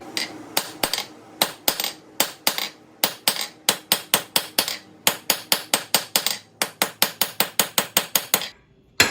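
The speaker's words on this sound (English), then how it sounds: "I'm tucking it right in this one radius of the anvil and just rotating it and tucking it back in, striking half on, half off" Hot steel struck by a hammer on an anvil's radius while forging a dinner triangle: a long, fast run of sharp ringing blows, nearly thirty in steady bursts with brief gaps, close and loud, no talk.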